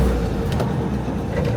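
A Renault 5 Gordini with a worn-out clutch labours up a ramp, its engine a steady close rumble with low-end drone throughout.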